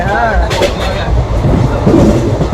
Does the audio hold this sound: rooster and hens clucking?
no